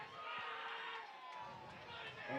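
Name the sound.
spectator cheering wildly in the football crowd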